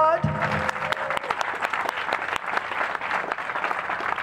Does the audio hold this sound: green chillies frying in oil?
no